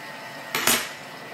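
Cooked chard stems clatter briefly as they are spread into a baking dish with a utensil, two close scraping clinks in an otherwise quiet kitchen.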